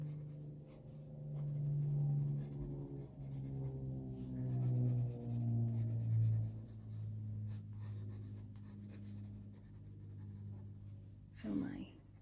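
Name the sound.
pencil drawing fur on paper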